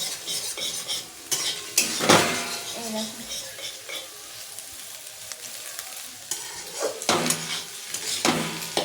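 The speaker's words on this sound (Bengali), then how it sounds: "ডিম আলু দুটোই একসাথে ভাজিয়ে নেব ভালো করে নাড়িয়ে নিতে হবে যাতে ডিমটা ভালো করে ভাজা ভাজা হয়ে যায়" Egg and potato stirred and fried together in a pan for chow mein, with steady sizzling under repeated scraping and clinking of a utensil against the pan, close and fairly loud.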